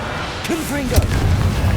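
A fiery blast from the Confringo spell in the video game Hogwarts Legacy: a single sharp burst over dense low rumbling, with a voice briefly audible just before it.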